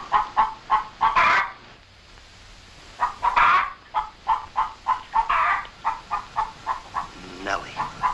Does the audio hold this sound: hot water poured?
no